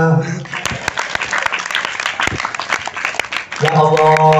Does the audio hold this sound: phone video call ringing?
no